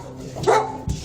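A dog at a house gives two short barks, one louder yip-like bark followed by a lower, quieter one, close by against faint background noise.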